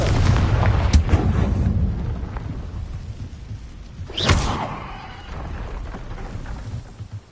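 A Confringo blast spell in the Harry Potter video game: a deep rumbling explosion that swells and fades under a dense, noisy game soundscape, with a bright whooshing burst partway through.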